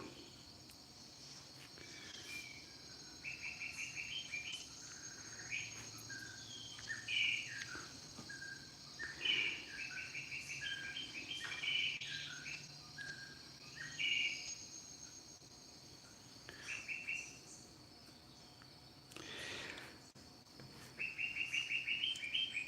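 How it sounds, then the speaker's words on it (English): A recording of rainforest: dense chorus of birds chirping and trilling with insects buzzing steadily beneath, a lush humid ambience with repeated calls rising and falling throughout. "The birds are actually, yeah, it's a recording of rainforest."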